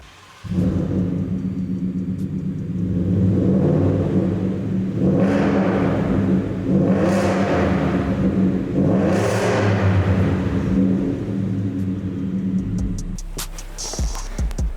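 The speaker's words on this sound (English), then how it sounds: "for exhaust, we decided to go with a Roush catback, which sounds amazing" A truck with a Roush catback exhaust rumbles loudly and revs up three times in a row, the exhaust roaring up and settling back between each rev, close by.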